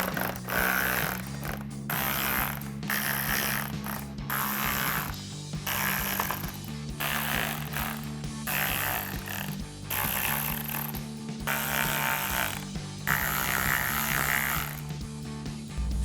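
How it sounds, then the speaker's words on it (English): A ratchet with a Phillips head bit drives screws on a Jeep Wrangler TJ soft top, giving repeated close bursts of rapid clicking and creaking separated by short pauses, with no talking. "I'm just switching to a ratchet with a Phillips head bit just to make this go a little bit faster"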